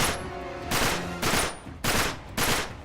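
Shots from a micro pistol in Uncharted 3, fired at enemies on a balcony: four loud, evenly spaced bursts of rapid gunfire that cut in sharply and fade slowly, with no voices.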